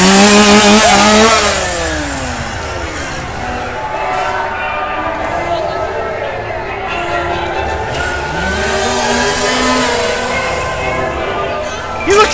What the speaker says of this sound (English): I can already tell I don't like this because of the chainsaws.